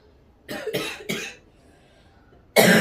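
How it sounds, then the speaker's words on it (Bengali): A person with a cold coughs: three quick hoarse coughs in a burst, a pause of near silence, then another loud cough up close. "কাশির আওয়াজটা শুনেই বুঝতে পারছো এত ঠান্ডা লেগেছে।"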